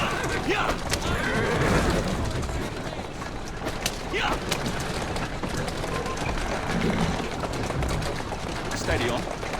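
A horse in Assassin's Creed Syndicate whinnies and snorts amid in-game street ambience with hooves clopping, while characters talk over the scene.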